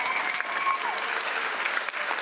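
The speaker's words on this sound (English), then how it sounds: "let's give a great round of applause" A large audience applauding at an awards ceremony, steady dense clapping throughout, heard from a moderate distance without pauses.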